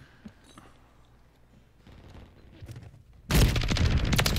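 Video-game gunfire from the Static-HV stays faint and scattered at first, then breaks into a sudden loud, sustained volley of rapid shots near the end.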